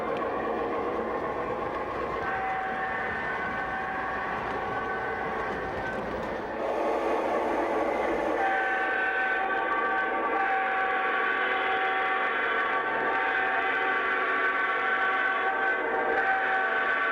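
A train runs on a mountain railroad through rugged country of grades, tunnels and curves, a steady rumble carrying long sustained whistle tones that swell louder midway and continue to the end, heard alone and at moderate distance.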